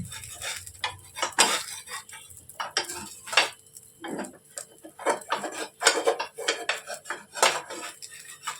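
A utensil scrapes and clicks against a pan while lifting the edges of a cooked flatbread, in short, irregular metallic taps and scrapes at close range with quiet gaps between them.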